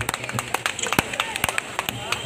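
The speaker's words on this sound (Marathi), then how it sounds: "जरा जोरदार टाळ्या होत्या." Audience applause at a community celebration of Dr. Babasaheb Ambedkar's 133rd birth anniversary, heard as a continuous patter of many hands clapping, with sharp individual claps standing out throughout.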